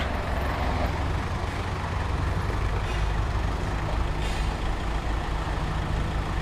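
A Yanmar EF494T four-cylinder tractor with a dozer blade and rotary tiller runs during a four-wheel-drive test, giving a steady, loud diesel rumble without letup.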